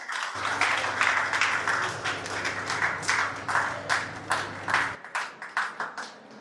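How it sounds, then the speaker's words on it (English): Audience applause for Naveen Agarwal, CFO of Dream11, at an office business event: a steady, dense wash of many hands clapping at close range, thinning toward the end into scattered individual claps as the round fades out. "If I could just get a very, very huge round of applause for Mr. Naveen Agarwal"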